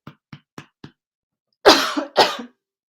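A run of four short, light coughs evenly spaced, then two heavier, harsher coughs close together from a person with bronchitis; near and fairly loud, with no talking.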